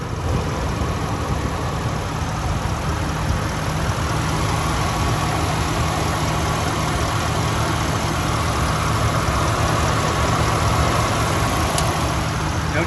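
A Ford F-150 Harley-Davidson SuperCrew 4WD with a factory, unmodified engine idles steadily up close, a constant even hum with no ticks or voices over it.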